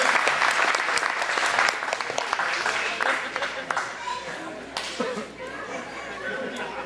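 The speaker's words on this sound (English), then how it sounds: "Let's give them a round of applause for that." Applause from an audience at an Ohio bicentennial royalty crowning celebration, a steady wash of clapping for several seconds with crowd noise mixed in, fading slightly toward the end.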